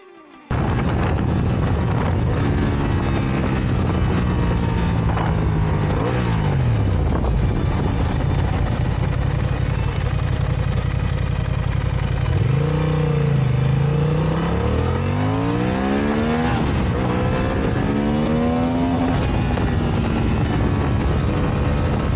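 A 2023 Honda CB750 Hornet motorcycle engine and exhaust, loud and close, idling rough then revving repeatedly in rising and falling sweeps, with wind noise throughout and no talk.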